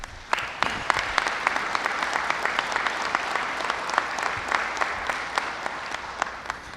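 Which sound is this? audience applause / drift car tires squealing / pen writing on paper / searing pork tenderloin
audience applause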